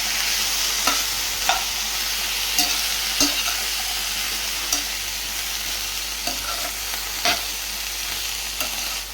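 Onion, curry leaves, dal, salt and beetroot sizzle loudly in a pan, with a steady frying hiss and occasional sharp scrapes of stirring, close and alone with no voices.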